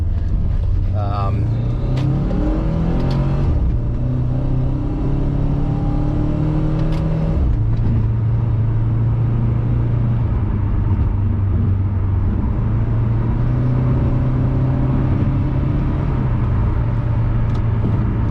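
A Saab 92x Aero converted to a JDM sportshift revs up hard in first gear, the engine note climbing repeatedly with loud rumbling pulls and brief drops, heard from inside the car with a voice talking over it.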